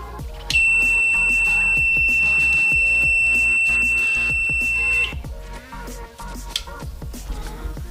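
A MUSTOOL C21 clamp meter's continuity buzzer at maximum volume sounds one loud, continuous high-pitched tone for about four and a half seconds over faint clattering handling noise.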